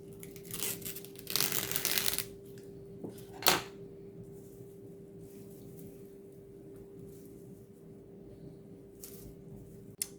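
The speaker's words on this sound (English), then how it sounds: "Then apparently you have to put it in foil so it doesn't dry out." Aluminium foil crinkling and tearing as it is wrapped around a Paris-Brest choux pastry in a kitchen, with crisp close rustles early on, a short sharp crackle after that, and then a quiet stretch with a faint steady hum.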